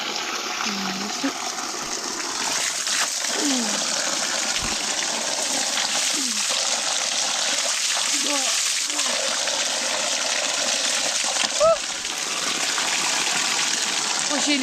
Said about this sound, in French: Il y a toujours une source quelque part. Une petite source fraîche.